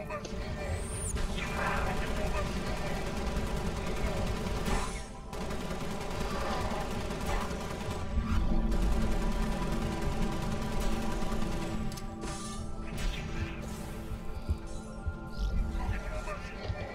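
Assault rifle fire in the Halo: Spartan Assault video game: dense, sustained bursts of automatic gunfire run almost unbroken, loud and close, with short pauses and a voice talking over the shooting.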